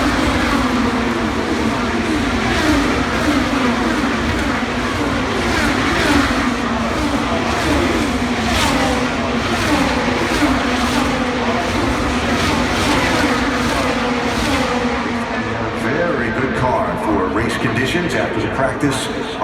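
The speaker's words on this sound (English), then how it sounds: "the front 3 have put just a little bit of gap on Dixon as they come down the main straightaway" IndyCar race cars roar down the main straightaway at the Indy 500, a loud, continuous engine drone filling the air while a commentator talks over it.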